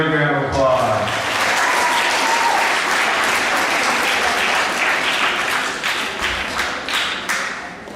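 An audience at a middle school awards assembly breaks into loud, sustained applause that swells and then thins out into scattered claps, with a voice speaking briefly at the start.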